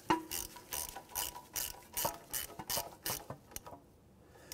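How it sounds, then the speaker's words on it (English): A ratchet wrench with a 10 mm socket snugs a bolt during a wheel bearing replacement on a 2007-2013 Mitsubishi Outlander, giving about a dozen quick, evenly spaced clicking strokes, close and moderately loud, that stop near the end. "So with a 10 millimeter socket, we're gonna snug this bolt up"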